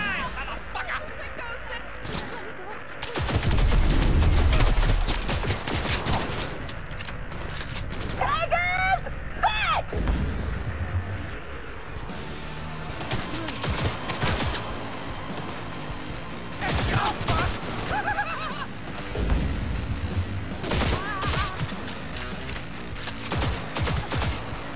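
Cyberpunk 2077 gunfire in a bursting, clattering volley of rapid shots, loudest early on and then recurring in scattered bursts, with game sounds and someone talking throughout.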